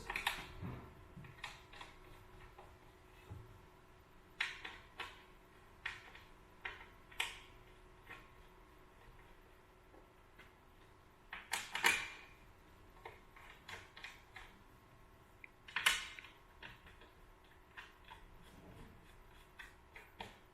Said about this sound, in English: I'll put the thumb screws on halfway for this